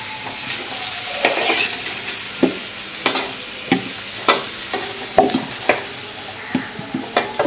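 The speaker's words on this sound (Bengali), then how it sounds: "হয়ে গেল আমার মাংসের আলু ভাজা" Potatoes being fried and stirred in a pan of hot oil for a chicken kosha, with a steady sizzle and a run of sharp scraping stir strokes coming at an irregular rhythm, close and alone.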